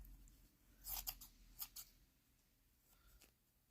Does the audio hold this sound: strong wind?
no